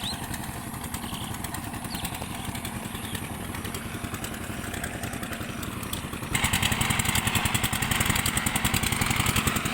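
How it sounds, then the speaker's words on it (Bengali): An engine-driven pump drains water from a large fish farm, its motor chugging steadily with a rapid clattering beat that grows louder and harsher partway through. "কিভাবে তারা দেখেন মেশিন দিয়ে খামারের জলগুলি শুকাচ্ছে।"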